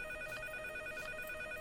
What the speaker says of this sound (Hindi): ड्राइंग रूम में फोन की घंटी काफी देर से बज रही थी